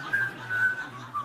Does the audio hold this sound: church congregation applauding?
no